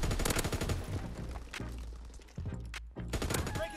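The MG 15 Guerilla machine gun firing in a shooter game, loud rapid automatic bursts broken by short pauses, close and dominant, with no talking.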